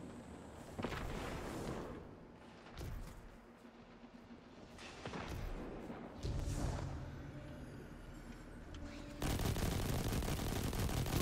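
Gunfire in Destiny 2 arrives in scattered shots and bursts against a low game background, ending in a sustained loud roar of sustained fire.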